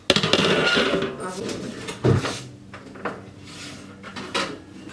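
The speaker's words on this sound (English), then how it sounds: "I'm gonna pull this out of the freezer now." A metal cookie sheet slid out of a freezer in a home kitchen, with clattering metallic scrapes and knocks, a louder bang midway and a few lighter clinks after.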